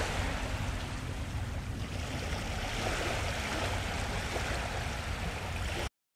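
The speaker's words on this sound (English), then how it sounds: "Fish boat." A fishing boat moves on open water with a continuous rushing wash of waves and wind, full and steady, with a low rumble beneath, lasting about six seconds before an abrupt stop.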